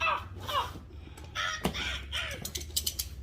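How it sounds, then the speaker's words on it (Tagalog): A crow gives several harsh caws in close succession, clear and fairly near, with light clicking and handling noise in the background. "May uwak dito."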